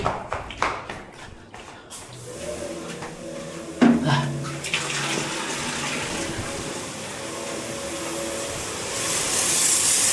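Water gushes strongly from a supply tap, a steady broadband rush that starts after a few seconds of clattering and persists loud and close to the end.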